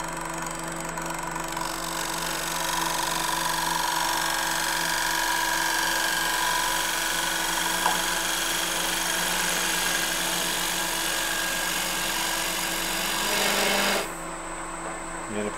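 A fluteless gouge takes light finishing cuts across the bottom of a wooden bowl spinning on a lathe, giving a steady hissing scrape over a constant motor hum that drops away near the end.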